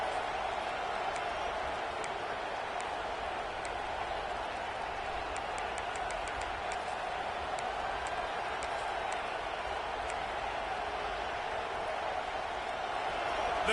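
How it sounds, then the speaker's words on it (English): A stadium crowd at a football game keeps up a steady, distant roar while the defense tries for a stop in the red zone. A commentator talks over it throughout. "The crowd getting behind this defense as they try to get a stop in the red zone"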